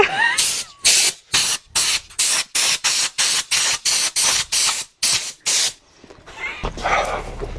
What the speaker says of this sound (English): Like spray foam